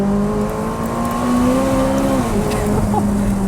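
A McLaren 600LT sports car driven hard, its engine droning steadily with a rising and shifting pitch, loud and close, like an in-cabin or onboard recording.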